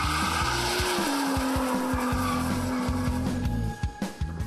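Tires squeal in a long sustained screech over a revving engine as a car slides, ending with a few sharp bursts of engine noise.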